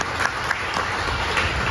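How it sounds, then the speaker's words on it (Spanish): Audience applauding at a private drag show, a steady wash of clapping through the short moment with crowd noise and no clear talk. "Por favor, brindan un fuerte aplauso"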